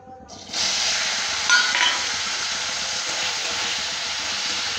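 Chopped tomatoes dropped into hot oil with turmeric and salt, bursting into a loud, steady sizzle that starts abruptly and holds evenly throughout.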